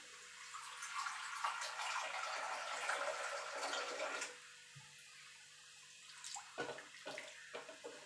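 Water poured from a vessel into a pot of boiled dal for a sour mango lentil dish: a steady splashing pour for about four seconds, then quieter trickles and small clinks, with no talking.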